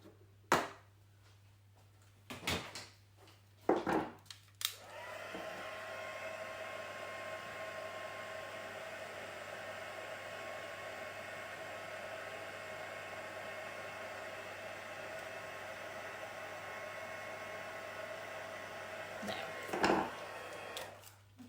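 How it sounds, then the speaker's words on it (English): A craft heat tool setting ink on a card runs as a steady, close whooshing blower hum for about fifteen seconds, with a few clicks and handling knocks before it starts and after it stops. "I'll just heat set that."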